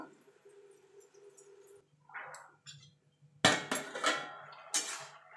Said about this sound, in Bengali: দেখুন বন্ধুরা ঢাকা দিয়ে দেবো।